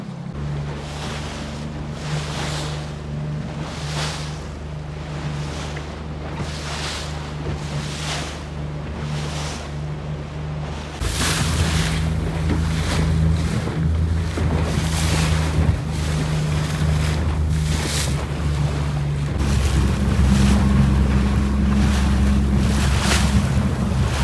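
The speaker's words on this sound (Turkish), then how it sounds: "Bayağı geniş dalga. Deniz güzel ya şu anda." Black Sea waves wash rhythmically around a moving boat over a steady engine drone and gusty wind; the water grows louder and rougher partway through.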